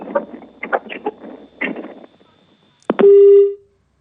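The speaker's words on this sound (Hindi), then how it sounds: "संतराम जी 2 शब्द बोलकर उन्होंने अपना फोन काट दिया है।" A phone call ends after brief, muffled talk on the line, followed by a short click and a loud, steady disconnect tone that cuts off abruptly.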